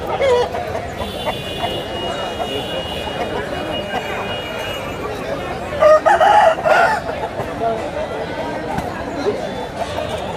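A rooster crows amid a busy crowd at an outdoor country chicken market in Anakapalli district, its call rising over steady chatter, bargaining and background murmur.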